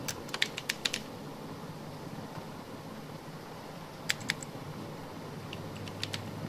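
A computer keyboard is typed on in a few short clusters of light clicks, at the start and again near the end, over a steady background hiss with long quiet gaps.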